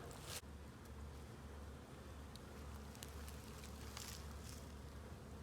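Honey bees flying around the entrances of small nuc hives in a bee yard in December, a faint, steady buzzing hum with occasional louder passes of single bees and no talking.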